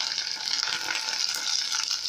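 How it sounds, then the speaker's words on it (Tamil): Curry leaves crackle and sizzle in hot oil with cumin seeds, a steady bright hiss with small pops, close by and fairly loud. "சீரகம் பொரிஞ்சதும் 1 கைப்பிடி அளவு கருவேப்பிலை சேர்த்துக்கலாம்."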